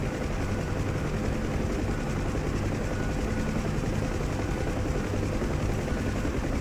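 Steady, dense rotor and turbine roar of a UH-1 Huey helicopter in flight in the DCS flight simulator, heard in rain, loud and constant from start to end with no talk.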